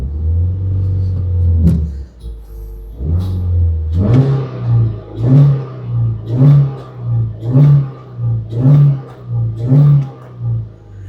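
Ford Focus flex-fuel engine revved while parked, a couple of longer blips followed by a rhythmic series of about eight quick rev pulses that hit the limiter, loud and close.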